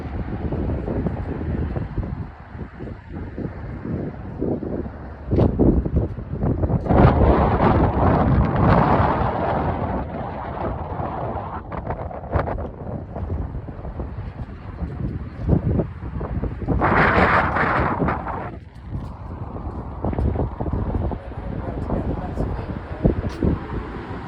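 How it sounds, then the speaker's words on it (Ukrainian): Strong wind buffets the microphone in heavy rumbling gusts, rising and falling, with people talking intermittently underneath. "Вітер, звісно."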